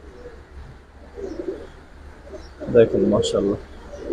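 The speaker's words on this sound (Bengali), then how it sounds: "একদম ফুল সিলভার নটটা ভাই" Full silver round-headed pigeons, dark-eyed and plain-tailed, coo softly through a short stretch, with a denser burst of cooing partway through as someone speaks over them.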